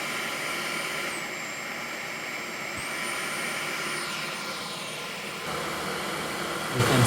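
A Dyson Gen 5 cordless vacuum cleaner runs in auto mode with a hard floor attachment, holding a steady, loud whooshing whine that shifts pitch briefly partway through, with a bump near the end.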